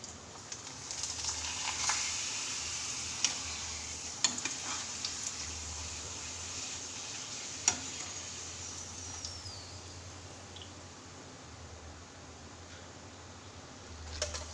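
Papad (appalam) frying in overheated oil, a strong bubbling sizzle that swells early and stays steady, with a few sharp clicks of utensils against the pan.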